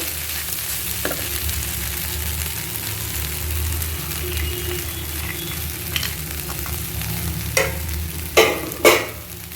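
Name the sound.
stirring poha upma in a pan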